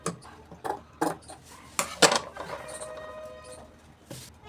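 Scissors cutting fabric around a blouse neckline, a series of sharp, separate snips at an uneven pace, close and clear, with light handling noise between cuts.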